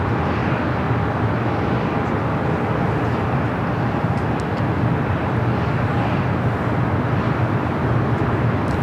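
Steady broadband roar of an Airbus A330-200 cargo jet during pushback at LAX, engines and ground equipment humming loud and continuous without pause.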